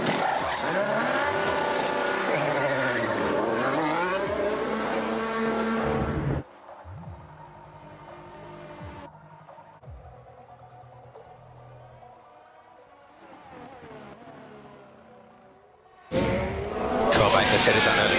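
Formula 1 cars racing at the Red Bull Ring during the 2022 Austrian Grand Prix, Red Bull in the field: loud engine roar and passes, then a quieter stretch, then the engines surge back, with commentary over it.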